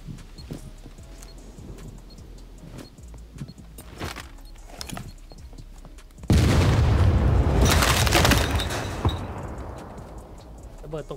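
A bomb blast in the survival video game SCUM erupts abruptly partway through: a loud, sudden boom followed by several seconds of heavy rumbling and crackling debris. Quiet game ambience and a few brief thuds come before it.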